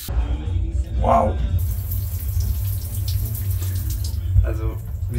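Weak-pressure shower running at a festival: steady hissing, spattering flow of water lasting throughout, fairly close, with faint voice-like sounds mixed in.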